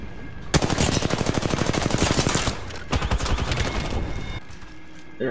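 Rapid automatic gunfire from an Apex Legends match rattles loud and close in two long sustained bursts, a steady stream of shots broken by a brief pause, with no talk over it.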